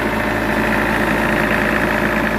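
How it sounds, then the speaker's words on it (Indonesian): A Star 20 kVA open-frame generator set driven by a Mitsubishi engine runs steadily at close range, a loud, continuous mechanical drone with a radiator fan whooshing, no talk over it. "Iya, ini star genset."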